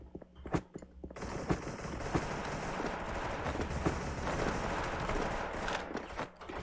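Rapid bursts of gunfire in the video game Special Force crackle almost continuously, sharp repeated shots layered over a dense, noisy background with no voices.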